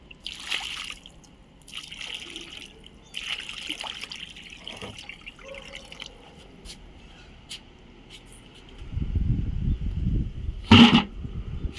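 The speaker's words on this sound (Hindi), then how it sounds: "थोड़ा पानी डाल के देखें क्या इसमें" Water pours into a drum in a few sparse, quiet trickles and dribbles, then runs as a louder, steady splashing flow near the end with a brief sharp clatter.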